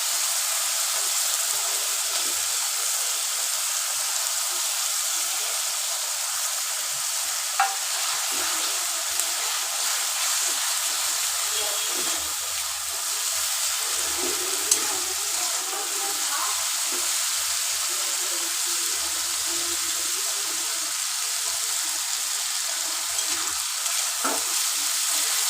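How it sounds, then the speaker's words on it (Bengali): Ginger paste frying in a pan for a spiced katla fish head dish, giving a steady, soft sizzle and hiss throughout with a few faint stirring clicks and no talking. "এবার আদা বাটাটা দিয়ে দেবো"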